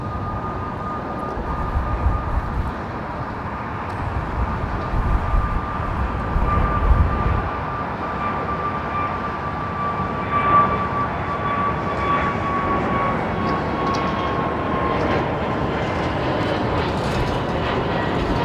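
A British Airways Airbus A321 taking off from London Heathrow Airport, a loud roaring jet engine with a low rumble that builds early then drifts into a steady, slowly fading whine as the aircraft climbs away.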